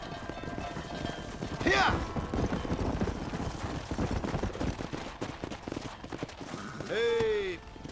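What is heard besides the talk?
horse hooves in video game Red Dead Redemption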